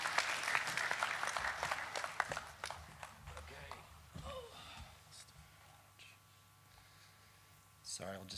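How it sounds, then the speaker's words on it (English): A conference audience at a legal conference claps, dense and lively for a few seconds, then thins out and fades as a presenter begins speaking nearby. "Let's give them a big round of applause."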